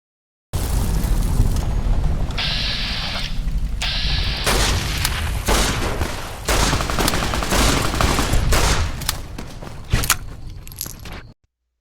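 Heavy gunfire and booming blasts as vertibirds are shot down in Fallout: New California: loud, continuous barrage of overlapping shots and explosions with rumbling low end, cutting off abruptly at the end.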